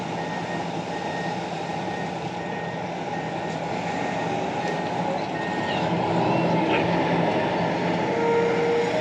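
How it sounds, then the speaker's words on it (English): A dump truck hauling black shale gives off steady, evenly spaced reversing beeps over a constant idling engine rumble that grows slightly louder toward the end. "Waiting for the beep."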